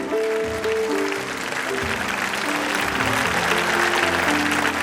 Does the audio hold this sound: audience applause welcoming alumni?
yes